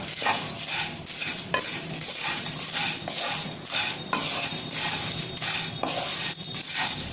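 Diet mixture namkeen with roasted chivda is tossed and stirred in a pan, producing loud continuous rustling and scraping with a light sizzle, close and without talk.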